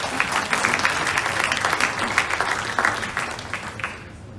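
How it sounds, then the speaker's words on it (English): Audience applause at a Hong Kong startup demo day, a dense steady clapping from a crowd in an indoor hall lasting several seconds, fairly loud and continuous with no talking over it. "Let's give him a round of applause"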